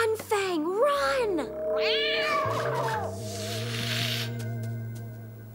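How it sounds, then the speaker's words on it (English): A cartoon cat meows and yowls in several drawn-out, pitch-bending cries, close and loud, over a sustained musical background. "cat! Who let that beast in here? No cats allowed!"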